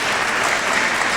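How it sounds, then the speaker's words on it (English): Steady, dense applause from a crowd at a youth conference, loud and continuous through the whole brief moment with no break or voices on top. "give him a clap, give him a clap for me, dude"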